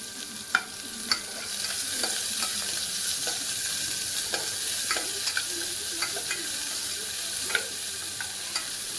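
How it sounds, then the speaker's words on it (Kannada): Onions fry in a pan for a Kannada-style green gram (hesaru kaalu) masala sambar, a steady close sizzle broken by several sharp clicks and scrapes of a spoon stirring, with no voices. "ಇದೆಲ್ಲವನ್ನು ಕೂಡ ಸ್ವಲ್ಪ ಫ್ರೈ ಮಾಡ್ಕೋಬೇಕಾಗುತ್ತೆ."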